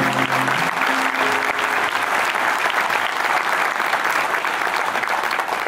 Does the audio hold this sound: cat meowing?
no